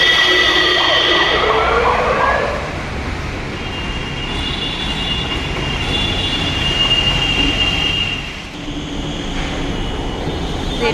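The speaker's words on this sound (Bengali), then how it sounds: "ট্রেন এসে গেছে।" A Kanpur metro train pulls into a station with a loud, steady rumble and shrill, sustained wheel and brake squeals layered on top. Close and continuous, with no voices.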